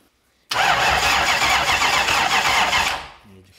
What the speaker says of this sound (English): it's just a starter to build the oil pressure